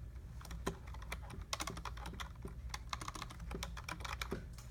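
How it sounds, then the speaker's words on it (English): Fast typing on a computer keyboard while filling in a scan sheet form, a dense stream of close, crisp key clicks with a few heavier taps, no talking. "I'm going to type in the same thing."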